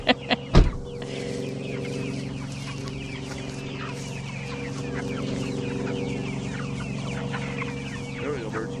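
Chickens cluck and murmur steadily nearby, with a few sharp knocks at the start and an ongoing low hum beneath the birds.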